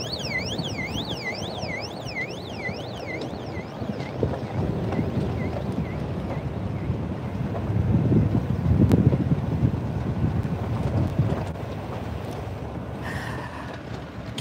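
Wind buffeting a microphone outdoors at a ranch, a continuous low rumble that swells stronger midway, with a faint warbling tone and scattered knocks early on.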